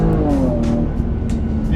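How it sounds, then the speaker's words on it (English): A 2017 Jaguar F-Pace AWD crossover accelerating, its engine a steady, fairly loud hum with a rising tone, close by and continuous through the moment. "the engine note is fine, like a well-aged wine"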